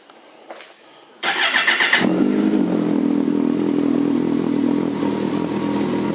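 A 2009 Kawasaki ZG1400A Concours ABS motorcycle cranks briefly with the starter, then fires and settles into a loud, steady idle heard up close.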